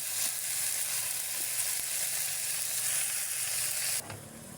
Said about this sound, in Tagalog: kumukulo-kulo na yung ating nilutong mushroom na may kasamang sitaw tsaka okra